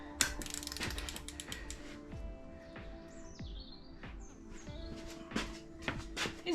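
Ratchet torque wrench tightening bolts on a Rover K-Series engine, quick repeated clicking strokes near at hand, with birds chirping faintly in the background.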